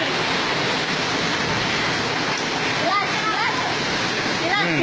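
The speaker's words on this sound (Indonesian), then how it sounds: "Bukti hujan es." Hail falling during a storm in Indonesia, a dense, continuous roar of pelting ice that stays loud throughout, with faint voices briefly audible near the end.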